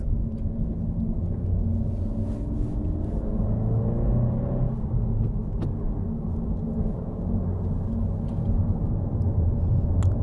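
A US-spec Honda Civic Si with a 1.5-liter turbo engine and all-season tires cruises along, its low engine drone and road rumble steady throughout, with faint rising tones as it pulls.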